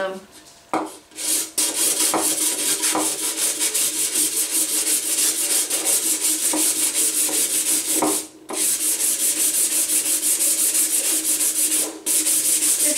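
Steady scratchy sanding, a Dollar Tree sanding block rubbed back and forth to distress a painted metal container in continuous strokes, close and fairly loud, with a few brief pauses.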